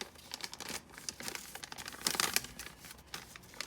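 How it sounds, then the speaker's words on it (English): Origami paper is unfolded from a grid of creases and folded down, giving close crinkling and crisp rustles in quick bursts, louder toward the middle. "we're going to unfold the grid thing, and we're going to fold this down"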